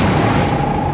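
A fire spell, Incendio, is cast in the Hogwarts Legacy video game: one sharp, loud blast that bursts out at once and then fades into a roaring rumble over less than a second.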